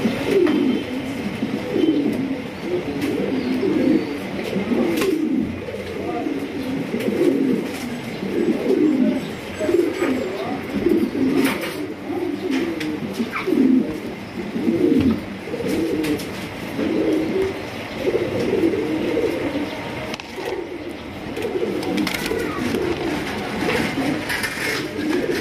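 Racing pigeons coo over and over in a steady, rolling rhythm, close by and fairly loud, with soft cage rustles and no talking.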